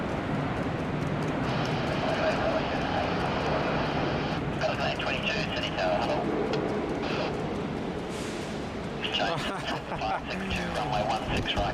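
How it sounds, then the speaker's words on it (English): Rolls-Royce Trent airliner engines spool up at Sydney Airport in heavy rain, a steady, loud broadband roar that swells and holds throughout, with rain and intermittent voices woven into the background. "just so we can enjoy the Trents spooling up here"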